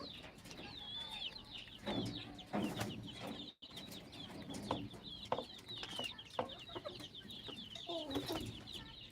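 Free-range village chickens cluck and chatter while pecking at grass, a busy overlapping flock close by with a few bird calls high above, no talking.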